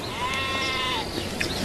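A single sheep bleats once, a wavering sustained cry heard close over quiet outdoor ambience.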